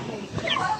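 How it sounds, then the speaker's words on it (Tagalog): A brief burst of chicken clucking close by, mixed with a faint murmur of voices. "Ang daming manok."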